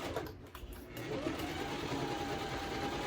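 A sewing machine backstitches on a bowler bag, giving a steady continuous whir close by. It is fairly quiet and runs alone without voices.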